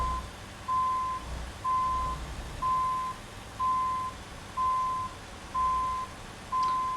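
A truck in American Truck Simulator backs up with seven evenly spaced, loud electronic reversing beeps about once per second over a low engine drone.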